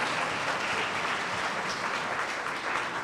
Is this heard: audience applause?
yes